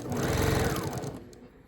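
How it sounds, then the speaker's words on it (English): A sewing machine stitches fabric for a picnic napkin caddy, giving a close, fast, even mechanical chatter that runs for about a second before slowing and trailing off. "I'm gonna really give this some good stitching"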